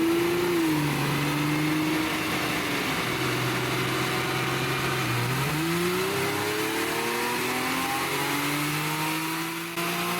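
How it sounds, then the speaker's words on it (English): Porsche 987 Boxster flat-six engine revving on a dyno in a baseline run, a loud rising and falling drone that climbs steadily in pitch over several seconds, heard alone with no talk. "let's visit our friends at Jotech where we're going to do a baseline dyno run"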